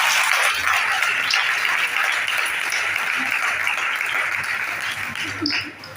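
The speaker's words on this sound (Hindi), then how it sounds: "फिर खुदा के जलाल के लिए जोरदार ताली" Congregation applauding loudly in a church, a sustained wash of clapping from many hands that fades near the end.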